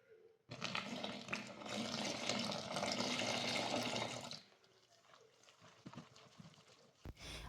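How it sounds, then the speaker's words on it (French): Water poured from a tap or jug into a bowl of flour, olive oil and thyme for homemade mini pizza dough, a steady close splashing pour lasting about four seconds, then quieter trickles and small knocks. "Ensuite, on va venir ajouter de l'eau."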